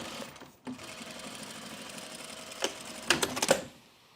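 A sewing machine stitching men's jeans, a steady near hum in short bursts with a few sharp clicks and taps toward the end.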